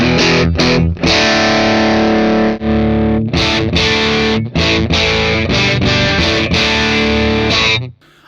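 A distorted electric guitar through a simulated Orange cabinet, with a warm, crunchy tone, plays loud chords and riffs continuously, with brief pauses between strums, ending with a fade.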